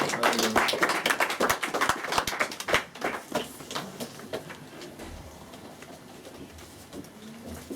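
A church congregation at a Sunday worship service claps to acclaim the Lord: dense, irregular handclaps ring loudly for about three seconds, then thin out into a softer, scattered patter with background room noise.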